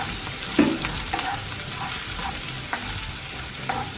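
Onion and chilies fry in a pan for refried beans, a continuous low sizzle with occasional spoon scrapes and knocks as they are stirred.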